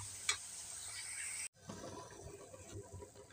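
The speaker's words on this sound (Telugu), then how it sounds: "పచ్చి బంగాళదుంపలు ఓన్లీ ఏం లేకుండా ఆయిల్లో ఇలా ఫ్రై చేస్తున్నామండి" Raw potato pieces fry in plain oil with a soft, steady hiss and sizzle. The sound is faint and broken by a short cut partway through, then continues evenly.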